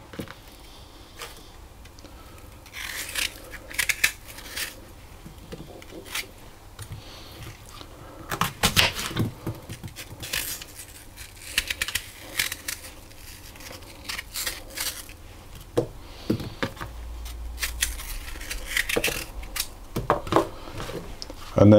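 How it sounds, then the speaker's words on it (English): Knife cutting apples into quarters and removing the cores on a kitchen board, scattered sharp cuts and taps at close range, heard under intermittent talking. "So I'll chop them into quarters. I'm going to take out the core."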